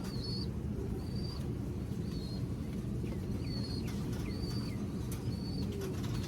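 Racing pigeons in a loft coo softly and repeatedly over a low, steady background hum, with a few brief wing flaps, faint and distant.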